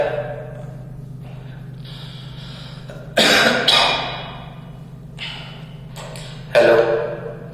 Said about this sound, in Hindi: बीच में थोड़ी खांसी आ गई थी